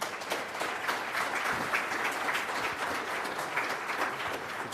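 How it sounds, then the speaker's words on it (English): An audience applauds debate moderator Ken Boddy at a Multnomah County district attorney candidates' debate: steady, dense clapping from a roomful of people, moderately loud and continuous throughout. "let's give it up for our moderator, Ken Boddy"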